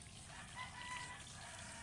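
Backyard chicken and rooster, faint and distant, a brief cluck or crow barely rising over steady background hiss.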